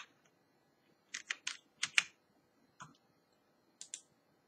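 A short burst of keystrokes on a computer keyboard typing a command, a quick cluster of clicks followed by a few spaced taps, faint and close with no talk.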